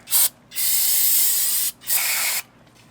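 Three bursts of aerosol brake cleaner hiss close by onto a brake rotor during a Toyota 4Runner brake job: a short puff, a long steady blast of about a second, then another half-second spray.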